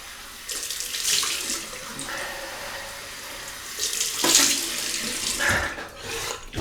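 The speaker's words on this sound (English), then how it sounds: "Cold water rinse." Cold water runs from a bathroom tap while a safety razor is rinsed during a wet shave, a close steady hiss and splash that swells and breaks as the stream is interrupted.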